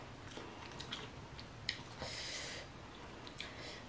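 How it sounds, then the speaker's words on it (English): Close, quiet chewing of a crunchy red leaf lettuce wrap with steak, with a few crisp bites and a sharp crunch over soft mouth noises and breathing, no talking. "Whenever I buy my lettuce, I buy the red leaf lettuce. It's so crunchy right here,"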